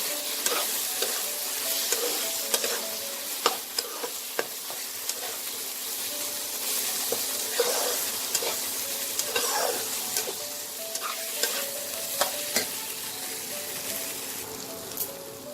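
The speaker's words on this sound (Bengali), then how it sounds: "চালটা দিয়ে আমি খুব ভালো করে ভাজবো।" Gobindobhog rice stir-fried in oil and spices for a traditional Bengali fish-head muri ghonto, a steady sizzle broken by repeated scraping and stirring knocks from a spoon against the pan, close and continuous.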